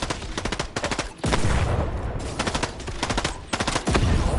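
SMG fire in the Fortnite video game comes as rapid, loud automatic bursts that repeat several times over a few seconds, broken by short gaps.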